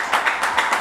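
A brief burst of audience applause at a French television show, a few loud, close rhythmic clap surges with no talking over them.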